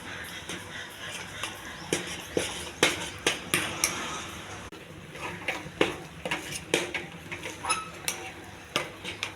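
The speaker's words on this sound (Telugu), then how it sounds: "ఇది ఉండ కాకుండా కలుపుతూ ఉండాలి" A spoon scrapes and knocks against a pot in irregular bursts as thick finger millet ragi sangati is stirred, the clinks fairly close and moderately loud over faint background noise.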